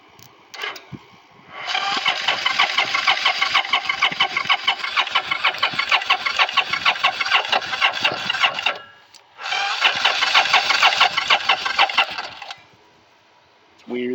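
A motorcycle engine with a newly installed pump cranks repeatedly in two long bursts of rapid stuttering churn, never catching, with short quiet gaps between attempts.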